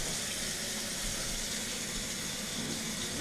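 A kitchen tap runs steadily while knives are rinsed after cooking hot dogs and beans, a close, constant rush of water with no break and no voices.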